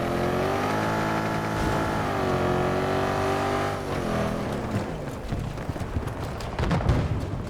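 A vehicle engine in the video game Battlefield 2042, a steady droning hum that rises and falls in pitch, then grows rougher and busier with rattling bursts, loud and close throughout.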